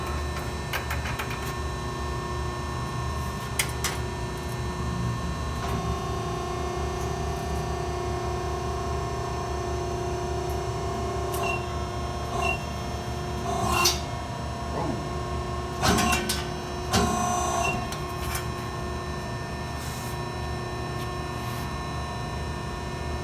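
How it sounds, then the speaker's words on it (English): The hydraulic pump of a CNC press brake runs with a steady, even mechanical hum, joined by a few faint clicks and knocks from the machine. "I'm going to turn the pump on."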